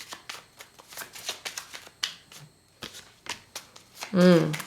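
Tarot cards being shuffled by hand up close, a rapid series of crisp flicking riffles and snaps, ending in a louder burst of tone-like sound at the very end.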